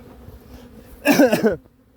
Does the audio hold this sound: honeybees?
yes